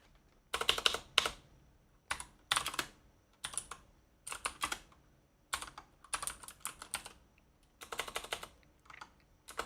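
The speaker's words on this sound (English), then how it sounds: "I can't type." Fingers type on a computer keyboard in quick clattering bursts separated by short pauses, close and fairly quiet, with no voices.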